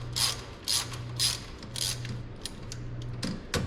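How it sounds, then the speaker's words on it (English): Ratcheting wrench loosening a bolt under the hood of a WS6 Trans Am, a run of quick close clicking bursts with a low steady hum behind, ending in a couple of sharper clacks. "I'm gonna have to take it out with a ratcheting wrench"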